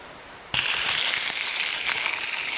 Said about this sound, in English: get that frying